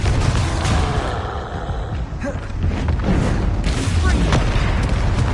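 Confringo and Bombarda spell blasts in Hogwarts Legacy, repeated booming explosions and impacts firing in quick succession over continuous game noise, with a voice speaking at points.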